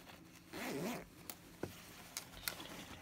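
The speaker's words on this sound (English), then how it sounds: "And now we're going to zip it up on both sides." An invisible zipper on scrap woven fabric is pulled closed with one smooth, fairly quiet zip, followed by a few soft clicks and taps of handling, near and without talk.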